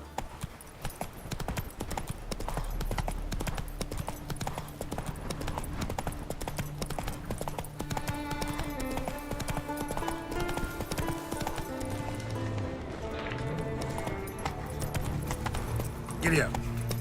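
Horse hooves gallop in a rhythmic clip-clop through the video game Witcher 3, steady and close under a layered orchestral music score, with a brief voice calling out to the horse.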